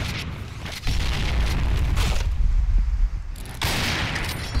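Gunfire and grenade blasts in the online shooter game Point Blank: bursts of rapid shots and heavy booming explosions come in loud waves, with short quieter gaps between them.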